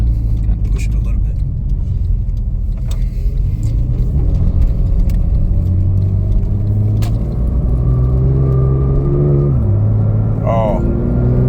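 Porsche 991 Turbo with about 650 horsepower idling and lightly revving while warming up, a steady low rumble throughout with a couple of brief rises in pitch near the end, people talking over it.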